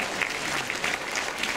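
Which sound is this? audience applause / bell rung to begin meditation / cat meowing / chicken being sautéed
audience applause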